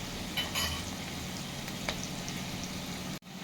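Onions fry in a pan for a mutton curry, giving a steady, soft sizzle with occasional brighter crackles and a brief clatter. It stays faint and close, with no voices.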